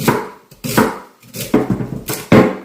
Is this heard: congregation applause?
no